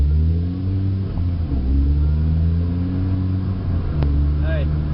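A manual car's engine hums and rises in pitch as it pulls away during a driving lesson, a steady close drone with a speaking voice over it.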